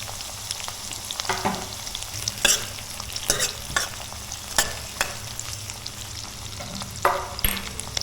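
Onion and green chili fry in hot oil with garlic and mustard seed, a continuous sizzle broken by frequent scraping stirs of a spoon in the pan, close and moderately loud.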